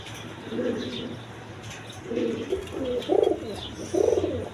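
Domestic and imported coloured pigeons at a Bangladeshi pigeon farm coo in several low, throaty bursts, fairly close, over a steady background hum.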